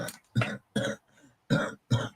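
An adult with a bad cough coughs several times in close succession, giving a run of short, near, harsh bursts that gradually become throat clearing.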